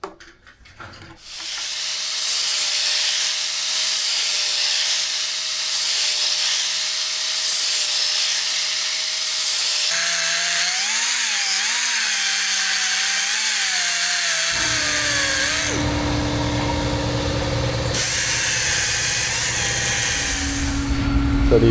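A power tool grinds and rounds off freshly cut metal pieces, a sustained high hiss and whine that shifts in pitch as it bites, with a steady motor drone underneath; no talk is heard.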